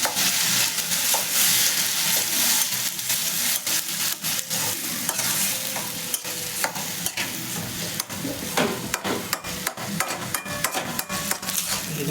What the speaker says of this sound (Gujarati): પેસ્ટ નાખી દેવાનો આપણે લસણ મરચાં આદુ આપણે હલાવવાનું